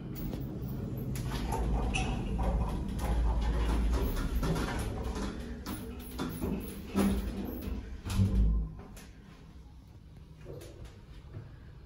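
Schindler M Series hydraulic service lift at Westfield Carindale travelling down its shaft, a loud continuous low rumble and whine with thumps and rattles throughout, easing slightly toward the end.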